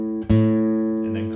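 A single guitar string is plucked once and rings on with a slowly bending pitch as it is tuned down below the note, close and clear, sustaining for about a second with no talking.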